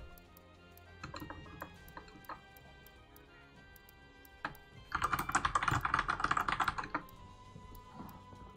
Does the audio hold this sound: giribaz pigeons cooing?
no